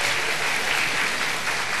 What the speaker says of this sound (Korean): 우리 다시 한번 격려의 박수 한번 해주시기 바랍니다.